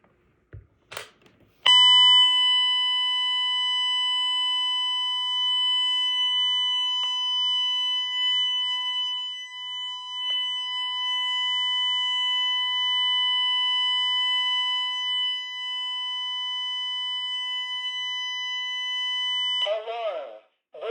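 A home alarm system's burglary panic siren during a monthly test, a loud steady electronic tone held for about eighteen seconds, with short spoken announcements from the panel before and after it.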